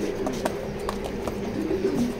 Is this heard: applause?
no